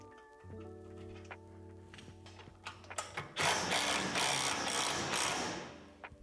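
A ratchet wrench clicks rapidly as it tightens a nut over a washer while assembling a Lifetime 54-inch portable pump-adjust basketball system, a close, steady burst of ratcheting after softer mechanical handling noises.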